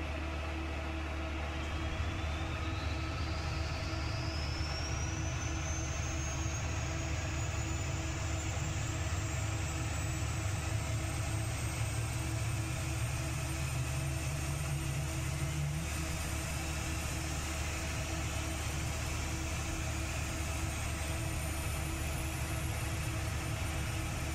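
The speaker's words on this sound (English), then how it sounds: "you can see the right-hand engine's just starting up" A simulated Cessna Citation II jet's right-hand engine spools up in a flight simulator under a steady roar, a thin high whine climbing slowly and continuously in pitch for the whole stretch.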